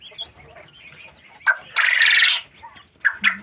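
Young hens and chickens cluck and squawk nearby, with one louder, sustained cackling call in the middle and scattered shorter clucks around it in a quiet setting.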